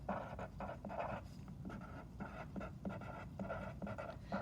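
A pen scratches across paper in short repeated strokes, close and quiet, with brief pauses between words as a decimal operations foldable is written on.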